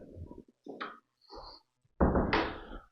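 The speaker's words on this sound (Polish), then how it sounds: "teraz sobie zamknę drzwi" A door is pushed shut in an apartment, a series of soft knocks and thuds with rustling movement that ends in a louder, sharper closing bang.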